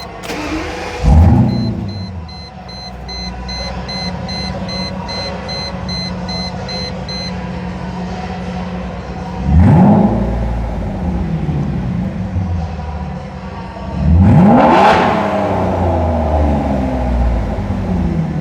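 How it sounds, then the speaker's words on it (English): A Mercedes SL600 donor car that sat for years revs three times, each burst rising sharply then settling back to a steady loud idle, close to the microphone with no talking. "I'm going to give you one last rev."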